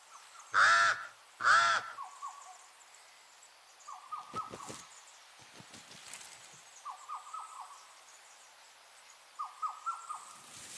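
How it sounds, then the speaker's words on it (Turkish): Hooded crows caw at a nest on a high branch in a forest, with two loud harsh calls up front, then softer repeated cawing and rustling spread out over several seconds. "Alacalı kargalar yuvalarını yapmak için oldukça yüksek bir dalı seçmiş."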